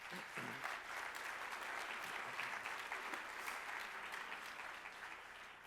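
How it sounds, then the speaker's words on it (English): Sustained applause from a conference crowd, many hands clapping in an even, continuous roar that stays steady throughout and eases off slightly at the close. "Let's give them all a round of applause."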